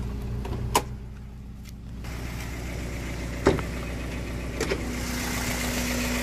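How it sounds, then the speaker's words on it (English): A 1995 Toyota Corolla's 4AGE blacktop 20-valve engine with individual throttle bodies runs steadily nearby, a continuous low hum broken by a few sharp clicks, with no speech. "this is the 4AGE blacktop 20 valve. Has 11:1 compression, individual throttle bodies, 5 valves per cylinder, and it sounds amazing."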